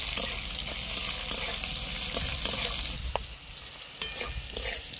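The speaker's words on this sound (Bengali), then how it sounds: "দিয়ে ভালো করে একটু ভেজে নেবো ক্যাপসিকামটাও।" Chopped capsicum fries in hot spiced oil, a steady close sizzle with intermittent clinks and scrapes of stirring, and no talking over it.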